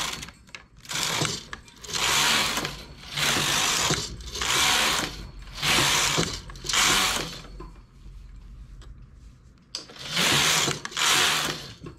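A domestic knitting machine carriage is pushed back and forth across the needle bed while knitting a top, producing repeated loud mechanical rasping passes of about a second each, separated by short pauses, close by and with no talk.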